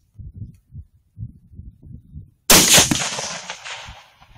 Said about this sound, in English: What if you shoot two with one shot?